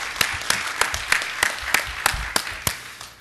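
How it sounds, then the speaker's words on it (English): An audience at an opening-remarks session claps for the event organizers, with a handful of loud, regularly spaced sharp claps standing out over a softer bed of applause that tapers off at the end. "So let's give them a round of applause for putting this together"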